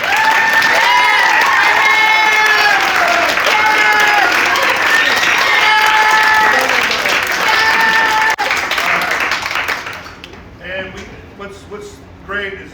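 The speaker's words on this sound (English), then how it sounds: "We're going to clap for you." Audience applause and cheering for students at a marching band award banquet, a dense, loud wash of clapping with whoops that runs about ten seconds, then fades to scattered claps under talk.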